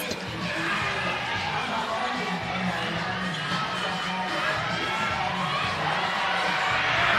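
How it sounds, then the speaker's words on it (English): Crowd at a youth games netball match at the Windhoek Showgrounds roaring steadily, a dense wash of cheering and shouting that swells slightly near the end, with a commentator's voice talking over it. "the crowd going very, very wild here"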